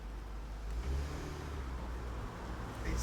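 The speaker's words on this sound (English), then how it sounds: "It's a V8." A V8-engined car idles and revs briefly at some distance, giving a low rumbling engine note with a slight surge near the start and no talk over it.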